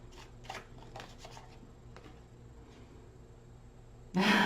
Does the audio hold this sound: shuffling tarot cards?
yes